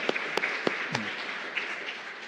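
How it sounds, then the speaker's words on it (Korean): A church congregation at a year-end service applauds the children's department, soft scattered claps with a few sharper hand strikes standing out, fairly distant and brief. "우리 유초동부 위해서 한번 박수 한번 해줬으면 좋겠어요."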